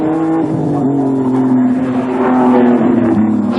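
Race car engine at Bathurst during the Hardies Heroes 1986 top-ten shootout, a loud, close, sustained roar that shifts pitch as the car rushes down toward Castrol Curve.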